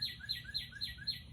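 A bird chirps loudly and close by, repeating a quick rhythmic series of bright tweets about every quarter second over a low background rumble.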